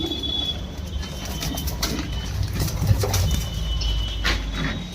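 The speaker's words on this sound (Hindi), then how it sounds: "बहुत ही बेहतरीन लाजवाब कबूतर है मेरे भाइयों।" Pigeons cooing softly amid rustling and occasional wing flaps, with a low background rumble.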